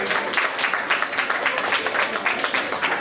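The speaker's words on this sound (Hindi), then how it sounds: "कृपया जोरदार तालियों के साथ स्वागत करें" An audience at a musical festival in Jalandhar applauds to welcome a guest, a dense, loud, steady wash of many hands clapping close by for the whole stretch, with no words over it.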